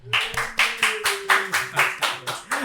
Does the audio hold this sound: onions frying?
no